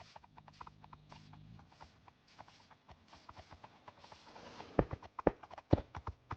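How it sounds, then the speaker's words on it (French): Zombie horses' hooves clip-clop in Minecraft, a run of quick, soft game-sound steps that grows louder and sharper toward the end, with a brief low murmur early on. "les chevaux zombies sont agressifs"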